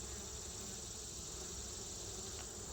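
Honey bees buzzing at an opened hive during a field exam, a faint, continuous hum of many wings that holds steady throughout, with no speech.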